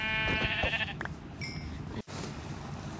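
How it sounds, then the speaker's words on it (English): A sheep in Minecraft bleats a short wavering call at the start, followed by game clicks and thuds, fairly close and moderately loud. "Okay, let's kill this sheep."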